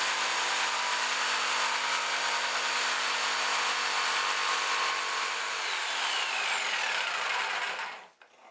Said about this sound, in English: In the end, I just got the jigsaw on those just to make things move along a little bit quicker.